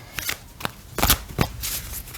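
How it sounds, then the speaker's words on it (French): An oracle card is drawn from a deck, giving a few quick, close papery slides and flicks with soft shuffling rustles over about two seconds. "On va tirer une carte."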